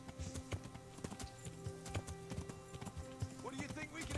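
Rapid clip-clop of horse hooves galloping in a video game, a quick steady rhythm up close, with game sounds layered around it and someone speaking over it.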